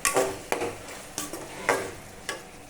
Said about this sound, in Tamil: கொஞ்சம் நேரம் வெங்காயம் வதங்கட்டும்